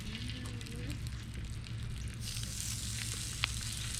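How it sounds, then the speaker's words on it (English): Spam crackling as it fries in bacon grease at a lakeside campsite, a steady close hiss with a low hum beneath and one sharp pop near the end. "let's go ahead and toss it on the bacon grease"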